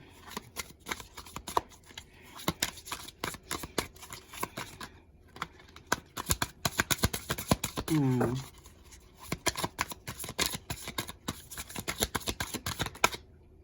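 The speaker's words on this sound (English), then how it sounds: "let's go ahead and get these tarot cards out." Tarot cards being shuffled by hand, a long run of dense papery riffles and slaps at close range, with a brief voice breaking in midway.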